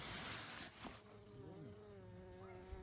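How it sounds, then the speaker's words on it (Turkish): A soft, steady buzzing of many bees inside a village hive drones close by, faint and continuous with occasional individual wingbeats rising above the hum. "İçeride arı var."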